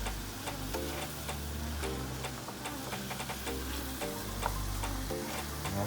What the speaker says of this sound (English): So we're gonna cook the salmon front side down first for 5 minutes.